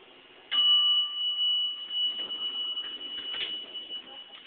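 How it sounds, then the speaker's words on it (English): A bright, sustained elevator bell tone rings steadily for several seconds in a Williams elevator in the Park Avenue Building, with soft clunks and rustling noise underneath. "The bell went insane upstairs."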